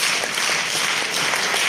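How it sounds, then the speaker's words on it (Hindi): An audience applauds steadily throughout, a dense wash of clapping at a gathering, fairly loud and unbroken with no talk over it. "वाह, एक हाथ ताली तो होना चाहिए उनको."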